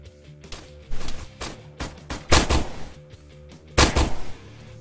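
Pistol gunfire in a first-person shooter game, heard as several sharp, loud shots spaced irregularly over a few seconds, with faint game ambience between bursts.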